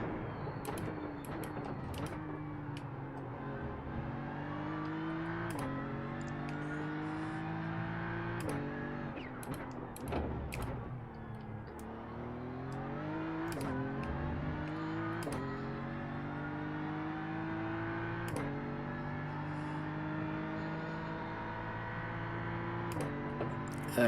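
A car races through the Porsche curves in a racing video game, its engine droning steadily with harmonic pitch sweeps as it shifts and corners, punctuated by sharp clicks and thuds, with no talking.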